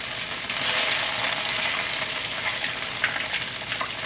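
Crab rangoon frying in hot oil: a steady, crispy, crackling sizzle that stays close and continuous, with a few sharper pops.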